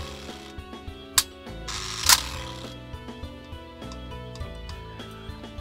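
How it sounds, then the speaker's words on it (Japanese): Two sharp mechanical clicks of a Gami 16, an Italian compact rangefinder camera, its shutter firing over a faint background, the second snap slightly louder and longer. "またシャッターが切れましたね。"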